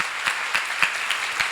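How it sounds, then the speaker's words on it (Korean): Audience applause at a church seminar, a short burst of steady clapping with rhythmic louder claps in a regular beat, moderately loud and without talk. "박수 크게 한번 쳐드려요"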